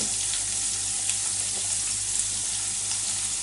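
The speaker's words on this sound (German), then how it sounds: "da werden meine Frühlingszwiebel angedünstet" Spring onions sizzle and crackle steadily in hot olive oil in a pan, a continuous frying hiss with no talking.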